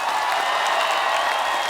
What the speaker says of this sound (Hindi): तो आप सबकी जोरदार तालियों के साथ please welcome the entertainers tour से one and only mister Akshay Kumar